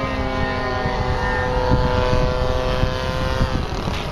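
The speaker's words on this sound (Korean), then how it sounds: "비행기가 내려오질 않아" An H9 Dual Ace or Dualist radio-controlled model airplane flies with its engine running, giving a loud, steady, buzzing drone that wavers slightly in pitch throughout, with no talking.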